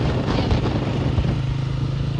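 A motorcycle ridden along a road gives a close, continuous engine drone with low throbbing, steady and loud throughout, with no talk.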